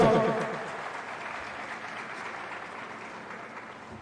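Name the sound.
applause at a government event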